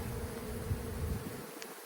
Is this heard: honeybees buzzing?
yes